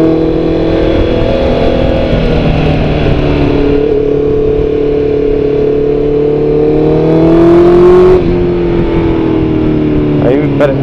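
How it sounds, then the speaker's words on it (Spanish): Car engine revving steadily on a mountain road in the Alpujarra of Granada, loud and close, pitch slowly rising toward a surge near the end, with a voice speaking over it. "Aquí se pone a prueba un motor."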